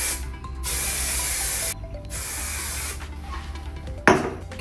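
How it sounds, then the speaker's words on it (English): Hairspray misted onto a formal updo in three long continuous hissing bursts, close to the microphone, with brief pauses between them and a small clatter at the end. "I'm gonna spray this real quick."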